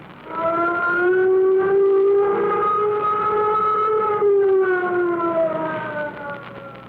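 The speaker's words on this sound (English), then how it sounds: "Sound flight warning signal." A flight warning siren from an old-time radio mystery drama wails in one long steady tone that rises slightly and falls, loud and alone.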